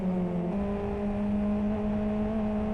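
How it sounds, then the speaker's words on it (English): Race car engine in the Live for Speed racing game, held at a steady high drone with rising harmonic tones as the driver downshifts and blips the throttle to match revs, continuous and close. "Nice downshifting and matching the revs with the throttle."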